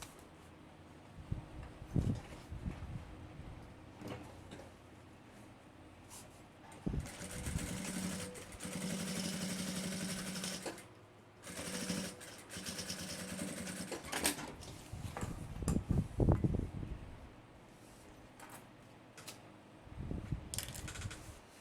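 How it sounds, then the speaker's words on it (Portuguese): A sewing machine topstitches a backpack seam in several whirring bursts of varying length, separated by pauses with handling clicks and rustles, fairly close and moderately quiet. "E venho aqui, ó, e vou rebater essa minha costura."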